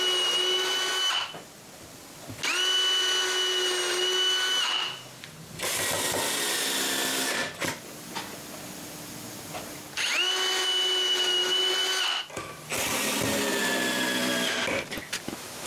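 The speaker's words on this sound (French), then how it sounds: "je marque les endroits où les vis vont être et je perce des trous" A power drill bores screw holes in wooden parts for candy dispensers, whining loudly in long repeated runs of a few seconds each, stopping and restarting several times with short gaps between.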